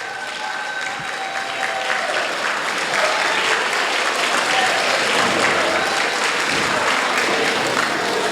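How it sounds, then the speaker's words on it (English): Audience applause for honorees at a Stockbridge Women's History Month council event, loud sustained clapping from a full room that swells slightly midway and keeps going, with faint voices mixed in. "I just want to give all of the honorees another round of applause"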